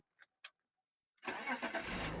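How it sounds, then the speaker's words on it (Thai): A couple of faint clicks, a pause, then the engine of a 2006 BMW E46 325i cranks and catches at once, settling into a steady close idle. "เครื่องสตาร์ทที่เดียวติดนะครับ"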